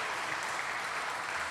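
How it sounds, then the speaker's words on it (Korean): Steady, dense applause from a congregation during a Sunday afternoon praise service at a church, loud and continuous throughout without any talk. "힘찬 박수 부탁드립니다"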